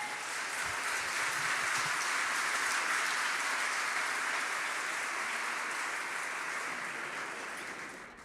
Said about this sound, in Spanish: Entonces dale un aplauso al Señor.